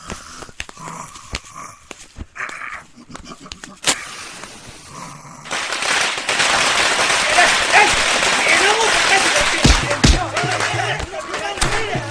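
Rapid crackling bursts of firecrackers fill the second half, loud and continuous, after a quieter stretch with scattered pops and background voices.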